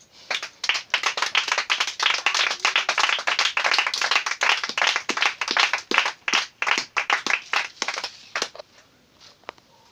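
Evangelical church congregation clapping, a loud burst of many hands in rapid irregular claps that holds steady for most of the stretch and then thins out and fades near the end; no cheering voices stand out.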